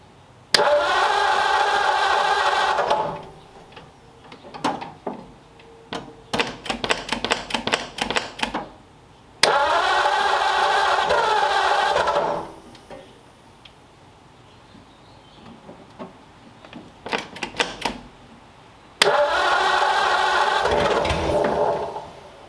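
A 1932 Ford Tudor engine being cranked over without firing, in three long loud bursts of rapid chattering starter turnover, with clicks and clattering handling noises between them.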